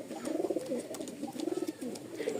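Rajshahi Giribaz pigeons coo close by in a pen of birds for sale, with two rolling, throaty cooing phrases a second apart over a faint rustly background and no talking.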